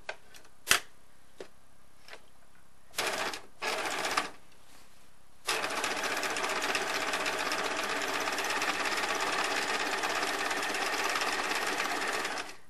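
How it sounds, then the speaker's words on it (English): A sewing machine stitches fabric pieces together, starting with a few isolated clicks and short bursts before settling into a steady, continuous mechanical whir that runs to the end. "I'm going to sew them together along this rectangle, making sure that the right side is to the wrong side of the fabric."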